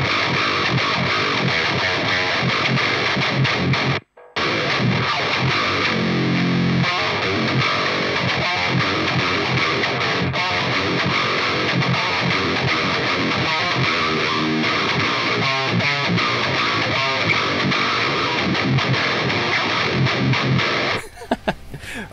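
Heavy metal/djent guitar tone built on an HX Stomp with a graphic EQ boosting the upper mids, playing a dense, chugging distorted riff loud and up front for about twenty seconds before it stops abruptly.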